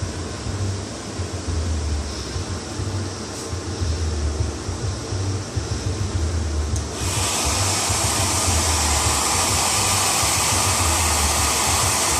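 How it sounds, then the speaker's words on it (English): A Yellow Bird hair dryer blows steadily up close, a constant airy roar that grows brighter and louder partway through as the setting changes. "I love this dryer. This is the yellow bird. This dryer is the truth."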